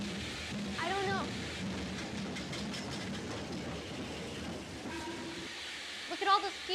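A train pulls in with rumbling, clattering wheels and a squeal of brakes near the end, while passengers get off and voices talk over the noise.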